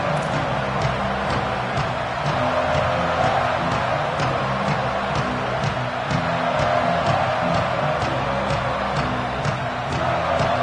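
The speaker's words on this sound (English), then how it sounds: "This crowd ready to make its presence known." Stadium crowd at a football game, a dense continuous roar of many voices with scattered shouts, loud and sustained throughout.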